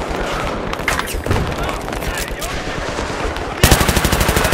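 Gunfire in Battlefield 3 aimed at the player, a dense run of shots under a constant battle din, turning into loud rapid automatic bursts near the end.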